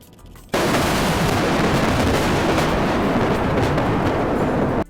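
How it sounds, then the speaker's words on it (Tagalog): A sudden massive dynamite explosion demolishing a bridge bursts in after a brief quiet, then a sustained roaring rumble of debris and blast noise fills the rest, loud and broadband. "Kakabitan nila ng bomba o ng dinamita ang bawat tabi ng tulay."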